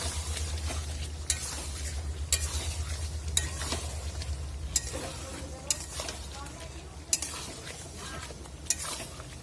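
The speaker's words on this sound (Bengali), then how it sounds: "এইবারে এই যে পটলটা দিয়ে দিচ্ছি দেখো পটলটা খুব ভালো ভাজা হয়েছে" Sizzling pan as fried pointed gourd is stirred into curry, with regular scraping stirs and occasional sharp clinks of a spoon against the pot, continuous frying underneath.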